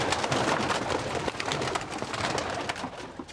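English carrier pigeons coo softly amid a dense, continuous bed of flapping and rustling, with many birds close together in a loft.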